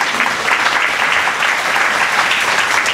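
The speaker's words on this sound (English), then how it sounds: "give him a round of applause" Loud, full audience applause at a judge's retirement gathering, a continuous dense roar of many people clapping close by, steady for the whole stretch with no talk.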